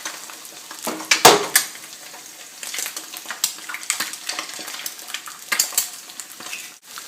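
Eggs sizzling and crackling in a hot pan with a little salt and pepper, a close, steady fry with sharper pops and spits scattered throughout.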